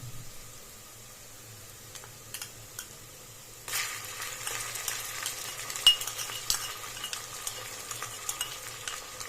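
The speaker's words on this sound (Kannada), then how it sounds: "ಶುಂಠಿ ಬೆಳ್ಳುಳ್ಳಿ ಪೇಸ್ಟ್ ಹಸಿ ಹಸಿ ವಾಸನೆ ಹೋಗೋದು ಚೆನ್ನಾಗಿ ಫ್ರೈ ಮಾಡ್ಕೊಳ್ಳಿ" Ginger garlic paste frying for mutton biryani, a soft sizzle that grows louder partway through as a spatula stirs and scrapes the pan with occasional clinks, close and without talk.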